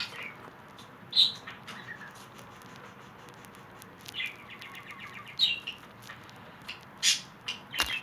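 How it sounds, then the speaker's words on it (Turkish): Scattered high, short bird chirps and tweets ring out at irregular intervals over a quiet background hiss, fairly close but soft. "Kuş ötüyor."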